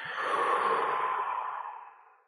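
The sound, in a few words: deep exhale during breathing exercise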